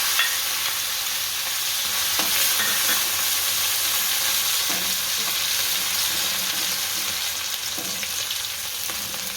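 Garlic pieces, green garlic and chillies frying in hot oil: a loud, steady crackling sizzle that runs throughout, with a few faint stirring clicks and no talk.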